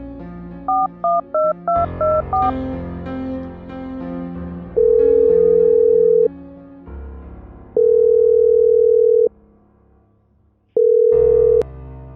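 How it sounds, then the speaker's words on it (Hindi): A string of quick dialing beeps, then a steady tone that repeats in three long, loud pulses with quiet gaps between them, like a busy signal. "The number you have dialed is currently busy."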